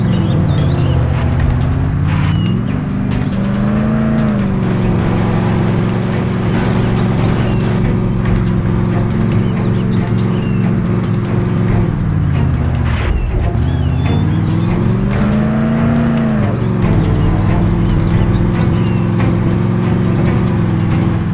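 In the video game Call of Juarez: The Cartel, a car drives steadily with a loud, continuous engine drone that rises and dips as it shifts and accelerates, along with road and tire noise, with no talk over it.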